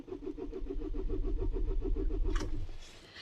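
Diesel car that has run out of fuel cranking on its starter, a steady rapid chugging rhythm for about two and a half seconds, then a brief burst and the cranking stops.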